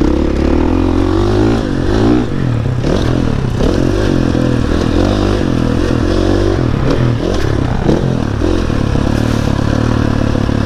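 A motorcycle engine revs and pulls while being ridden, loud and close, with repeated rising and falling throttle surges over road and wind noise.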